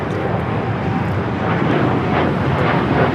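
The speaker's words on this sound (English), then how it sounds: "This is United Airlines 1855 taking off to Newark on the 787-10 Dreamliner." A United Airlines Boeing 787-10 Dreamliner takes off from LAX bound for Newark, a loud, dense, steady jet roar filling the short stretch without letup.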